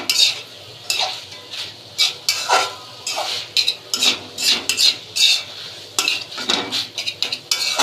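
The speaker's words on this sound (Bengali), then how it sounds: "চুলার মাঝারিতে রেখে চিকেনগুলি নেড়ে চেড়ে ভাজা ভাজা করে পুরটা রেডি করে নিব।" Chicken filling stirred and fried in a pan for stuffed pumpkin-leaf rolls: a spoon scrapes and clinks against the metal pan in repeated irregular strokes over a soft, steady sizzle, close and fairly loud, with no talking.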